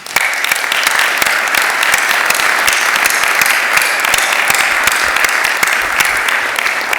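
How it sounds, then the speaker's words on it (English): A large audience at a spring achievement day convocation ceremony applauds loudly and continuously, a dense sustained wash of clapping with no gaps throughout. "would entertain a round of applause"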